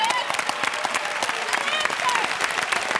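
Women in a game show studio audience clapping and cheering, a loud, dense wash of applause with excited shouts and voices mixed in throughout.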